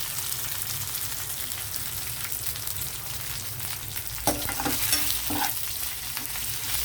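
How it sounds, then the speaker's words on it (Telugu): Curry leaves crackle and sputter in hot oil for a tempering while a spoon stirs, with a constant frying hiss and a burst of sharp pops partway through. "కరివేపాకు వేసినప్పుడు చిట్టపెట్టలాడి ఆయిల్ మీదకి చెదురుతుంది అనమాట"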